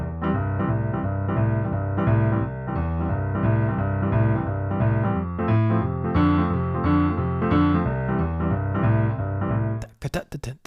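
Boogie-woogie piano part of a rock and roll song with a slap-back delay, played with a hard swing; a full, steady rolling rhythm of bass and chords that cuts off near the end.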